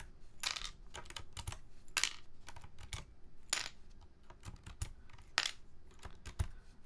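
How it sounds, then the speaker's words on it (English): Keycaps being pulled off a keyboard one by one, producing sharp, close plastic clicks and clacks at an irregular pace, with no talking. "I'm pulling out these keycaps"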